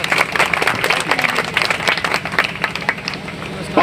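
An audience claps in welcome in a lively, uneven patter, close and fairly loud, with a faint murmur of voices mixed underneath.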